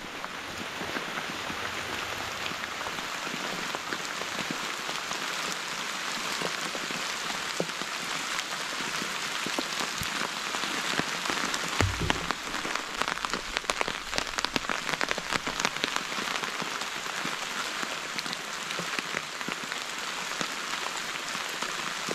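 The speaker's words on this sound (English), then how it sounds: "As you all can see, it's raining nicely. So far, it's been raining for a few hours." Rain drums steadily on a Teton Sports Mountain Ultra 1 tent, a dense, close patter of countless drops on fabric that continues evenly throughout, with a few heavier splats and no talking.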